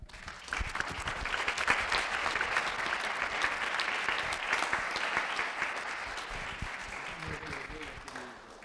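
Audience applause at a book presentation on Castellamonte ceramics in Vidracco, a steady dense patter of many hands sustained throughout, moderately loud and fading slightly toward the end.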